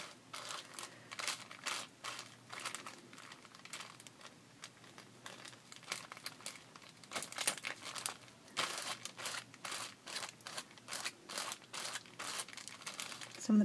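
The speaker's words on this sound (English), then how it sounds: "So you can keep rubbing and rubbing, getting some of that off." Paper being rubbed off a packing tape transfer, a dry scratchy rasp repeated in quick, steady strokes close to the microphone, continuing without pause.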